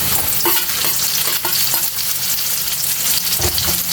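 Onions for bopis hitting hot oil in a pan, a loud dense sizzle with rhythmic stirring scrapes, close up and continuous with no talking.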